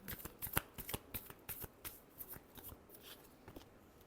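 A deck of tarot cards is shuffled by hand up close, a quick series of crisp riffling flicks and snaps in an uneven rhythm, quiet and with no talking.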